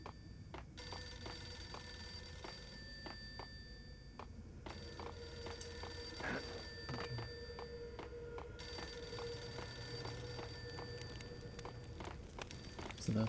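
A telephone rings in the Max Payne video game: repeated electronic bell bursts with pauses between them, set against a low game ambience and some footsteps.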